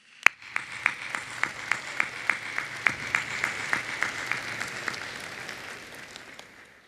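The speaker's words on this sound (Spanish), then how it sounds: "yo quiero pedirles a ustedes un gran aplauso para cada uno de ustedes" An audience applauds scholarship recipients of the Beca 18 programme at a government event, a soft wash of clapping with distinct regular claps standing out, steady then fading.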